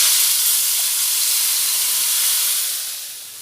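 Diced potatoes hitting hot spiced oil for a potato curry give a steady, loud, bright hiss that holds for a few seconds and then eases slightly toward the end, with no voices over it.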